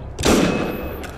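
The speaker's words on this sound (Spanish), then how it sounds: "Uy, ¿están disparando a ellos?" Gunfire in the video game Assassin's Creed Unity: a single muffled shot or short burst early on, with a broad thump and a lingering rumbling tail.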